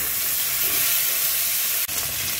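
Cumin seeds sizzle in hot oil with tomatoes, cooking for a vegetarian banana-flower ghonto, a steady close frying hiss with one brief click near the end.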